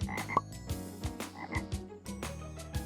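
A toad croaks in a cartoon garden scene, giving repeated low, throaty croaks at an uneven pace, loud and close, with no talking over them.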